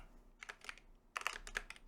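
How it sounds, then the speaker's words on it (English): Mechanical computer keyboard typing, two quick bursts of crisp key clicks separated by a short pause, close and fairly quiet with no voice. "Like I really like this keyboard."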